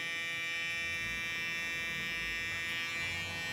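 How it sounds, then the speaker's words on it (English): Electric hair trimmer buzzing steadily and close, a constant hum used at the start of a fade haircut with clippers. "I'm actually going to be just using my trimmer first"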